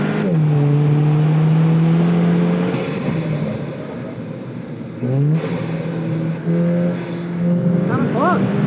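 A Volkswagen Golf GTI revs and accelerates through gears on a track hot lap, the engine note rising and dropping with shifts, loud and close, with someone talking over it.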